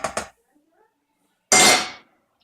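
Minced fried onion and garlic scraped from a cast iron frying pan into a pressure cooker: two quick metallic clinks, a pause, then a loud scraping clatter that fades out.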